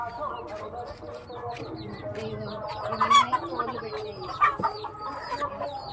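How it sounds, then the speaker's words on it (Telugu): Free-range country chickens kept in an iron-built coop cluck continuously and overlap in a busy flock chorus, with a few louder squawks partway through and some background noise. "ఇది మొత్తం కోళ్ళు అనమాట"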